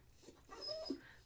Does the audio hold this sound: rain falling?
no